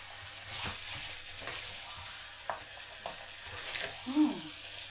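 Garlic butter crab sauce is stirred in a pan, a soft low sizzle with a few scattered scraping and tapping strokes of the spoon, fairly quiet and close.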